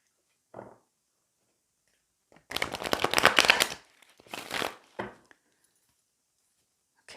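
Papery rustling and rapid riffling of tarot cards being shuffled, in a few short bursts with quiet gaps, fairly close.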